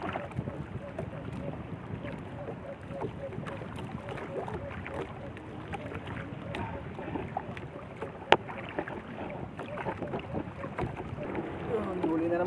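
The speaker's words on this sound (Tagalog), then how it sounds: "Lakas na yung hangin." Strong wind gusts across open water around a small fishing boat, a steady broadband rush with mic buffeting and faint splashing, plus one sharp knock midway.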